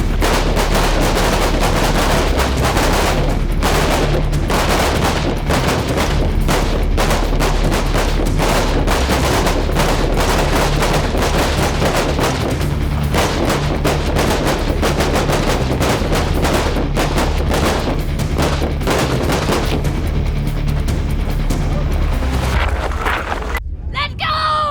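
Rifle shots crack out loud and close during shooting practice from standing, kneeling and prone positions, dense overlapping volleys from several shooters with no pauses, under wind rumble, tapering off at the very end.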